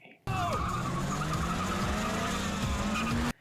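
Anime race cars, including a Toyota AE86, Mazda RX-7 FC and Lancer Evolution III, skid and squeal through a mountain race on Akina, a loud continuous tire screech with a rising engine whine running under the action.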